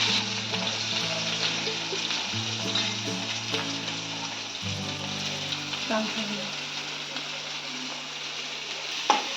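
Crushed garlic and green chili frying in a pan give a steady, fairly loud sizzle throughout, with a low steady hum beneath it and a sharp clink near the end.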